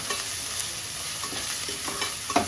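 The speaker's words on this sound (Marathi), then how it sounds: "टमॅटो आणि अद्रक लसूणची पेस्ट ना चांगली परतली गेली पाहिजे." Tomato and ginger-garlic paste frying in hot oil, a steady close sizzle with occasional scrape and stir clicks, no talking.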